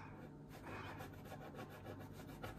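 A scratch-off lottery ticket being scratched, a close, quiet, continuous dry rubbing rasp lasting a couple of seconds with no talking.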